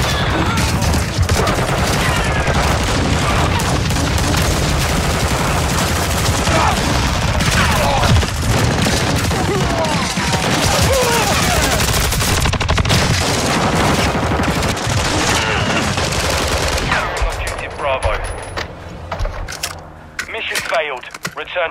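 Loud, relentless gunfire from Call of Duty: Modern Warfare 2 on the Shipment map, rapid automatic bursts and overlapping shots packed closely together, with game voices mixed in before the barrage thins out near the end.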